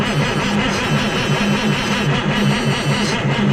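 A Detroit Series 60 diesel engine in a dump truck cranks over steadily on the starter, a loud, close, rhythmic churning pulse that repeats without catching.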